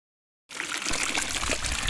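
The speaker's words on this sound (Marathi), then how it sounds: "पाहिलं का जरा केवढा झरा आहे?" A gushing stream in the hills near Nashik, its broadband rush of flowing water cutting in abruptly and then running steady and fairly loud, with no voices over it.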